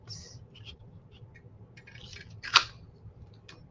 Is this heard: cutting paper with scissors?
yes